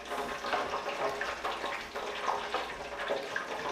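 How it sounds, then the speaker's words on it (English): Hot frying oil drips and sizzles off a basket of freshly fried potatoes for poutine, a steady soft crackling hiss close by with no talk. "We're going to let the oil drip off."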